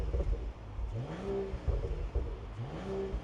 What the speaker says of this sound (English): I'm about to record some revving